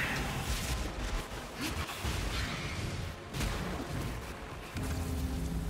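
Detonate Dead corpse explosions in Path of Exile, set off by a Righteous Fire Chieftain build in endgame play, form a loud, dense, continuous barrage of overlapping booms and crashes with brief dips, and no talking.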